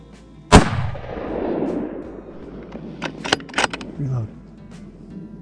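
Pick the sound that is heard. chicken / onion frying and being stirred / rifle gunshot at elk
rifle gunshot at elk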